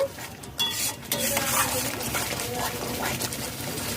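Spices stirred and fried in oil over a low-to-medium flame, a spoon scraping the pan in quick irregular strokes over a soft continuous sizzle, close and fairly loud.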